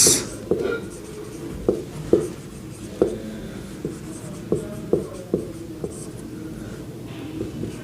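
Chalk or marker writing on a classroom board during a geography lesson, a run of short tapping strokes at a steady pace, near and clear, with no talking over it.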